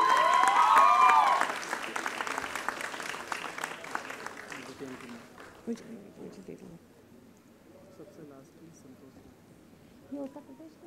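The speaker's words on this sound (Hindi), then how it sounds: "अनुरोध है कि जोरदार तालियां होनी चाहिए इन कलाकारों के लिए।" An audience at a stage cultural program gives performers of a wolf folk dance a burst of loud applause that fades into scattered clapping and murmuring, with a voice briefly heard afterward.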